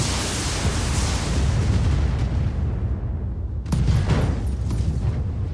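Ammunition explosions in the BattleTech mech combat video game during an alpha strike, a continuous roar of loud booms and blasts with a fresh burst of detonations near the end.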